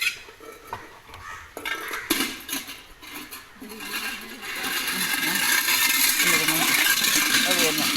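A dog plays with a metal pot, knocking and dragging it so it clanks and scrapes unevenly at close range, with a denser rattling stretch toward the end.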